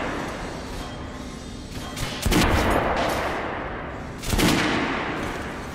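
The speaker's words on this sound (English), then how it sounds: "head over to my range and try out those guns" Gunfire at a shooting range in the video game Metro: Last Light Redux, with two loud, close shots roughly two seconds apart, each trailing off into a reverberant tail.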